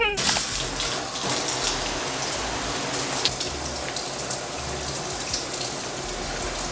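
Shower water runs steadily at a gym, a dense, constant hiss of spray close by, with no speech over it.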